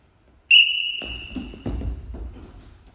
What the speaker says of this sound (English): I'm going to use a whistle this time.